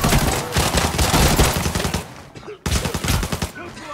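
Rapid gunfire in the Arena Breakout shooter game, featuring an MK14 rifle, loud dense bursts of shots with a short pause before firing resumes.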